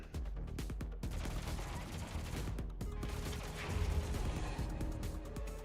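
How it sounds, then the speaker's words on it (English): Overdriven pistols fire in the video game Kill Knight, a dense rapid rattle of shots and mechanical clatter that runs continuously, fairly quiet and layered with impacts. "Overdrive the pistols with the active trigger."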